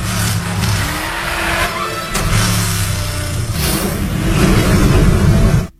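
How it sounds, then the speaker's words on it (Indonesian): A car races in a chase scene from a Captain America film, its engine roaring and revving with tires squealing, loud and continuous before cutting off abruptly at the end. "Philip dan Peggy datang menggunakan mobil. Mereka tancap gas mengejar Red Skull."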